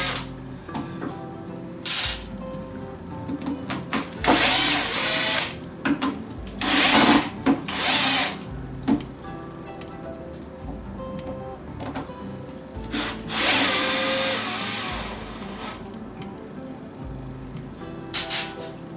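A power drill backs screws out of a heavy-duty resin casting mould in a woodturning workshop, with repeated short whirring bursts separated by pauses and clatter.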